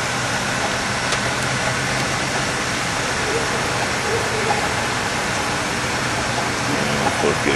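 Floodwater rushing through a flooded creek behind a neighbor's yard, a loud, dense, unbroken roar close by that fills the whole stretch without letting up.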